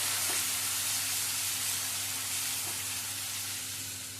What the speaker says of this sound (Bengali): এবারে সমস্ত মশলা 2 থেকে 3 মিনিট ধরে কষিয়ে নেব।